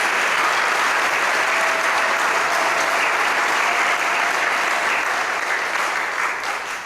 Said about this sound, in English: So please, we give them a round of applause for all their work tonight.